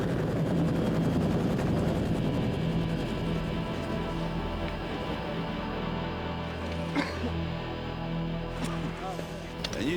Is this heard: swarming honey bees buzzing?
no